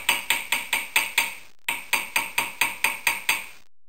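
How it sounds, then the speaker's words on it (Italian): A small metal hammer taps a copper wire ring to texture it, striking in two quick even runs of about six and eight sharp ringing blows, with a brief pause between the runs. "Oppure potrete usare anche questo martello, in mancanza d'altro va benissimo."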